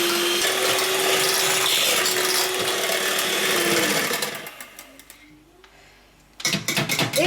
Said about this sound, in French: je prends mon batteur à main et je vais faire monter